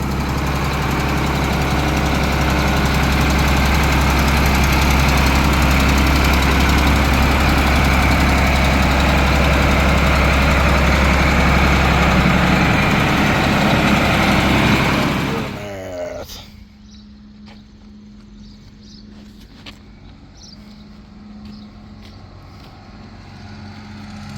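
A John Deere 8640 tractor engine, freshly fitted with a new transmission, runs loud and steady at close range for about fifteen seconds, then abruptly drops to a quiet low idle hum with faint clicks.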